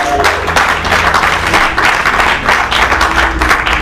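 A church congregation applauds in sustained, dense clapping that stays loud and even throughout, with faint voices mixed into the crowd.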